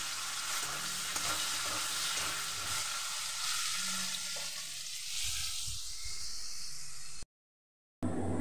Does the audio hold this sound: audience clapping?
no